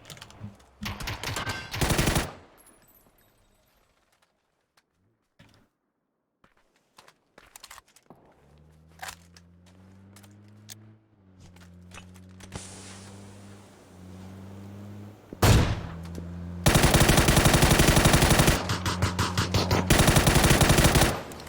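Rapid gunfire bursts from a pistol being sprayed in the battle-royale video game PUBG, loud at the start and again near the end, with quieter game sounds and engine-like hum between.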